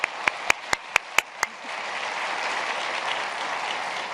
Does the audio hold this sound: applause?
yes